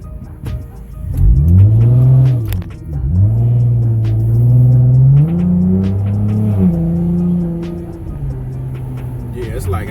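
A custom Dodge Journey with a pedal box throttle controller in sport mode revs and accelerates in a loud, close engine roar that rises and falls through the pull. Someone talks over it.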